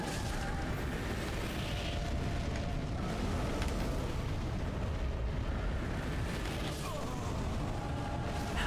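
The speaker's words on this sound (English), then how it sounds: "I should have expected an explosion after starting the phase." A huge rumbling explosion in Dark Souls III's Ringed City, a dense, roaring blast that stays loud and continuous throughout.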